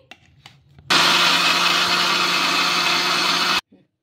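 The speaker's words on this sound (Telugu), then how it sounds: "నీళ్ళు ఏమి వేయకుండా మిక్సీ అయితే పట్టేసుకోవాలి చూడండి" A mixer grinder grinding leftover cooked rice without water runs at full power for about three seconds, loud and steady, before stopping abruptly; faint handling clicks before it starts.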